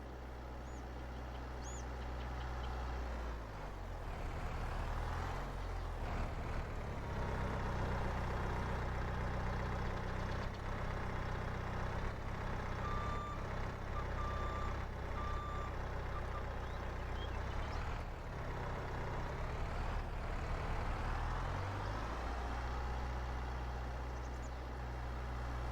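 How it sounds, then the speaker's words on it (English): A gravel truck in Farming Simulator 22 idles with a low, steady diesel rumble while unloading, its reversing beeper sounding in short repeated beeps at a moderate distance, no talking. "So let's get the gravel unloaded"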